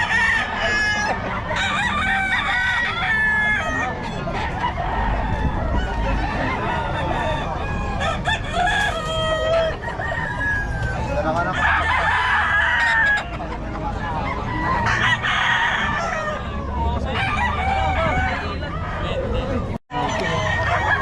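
Gamefowl roosters from Nueva Ecija crow repeatedly and cluck nearby over a busy backdrop of crowd chatter and people talking throughout.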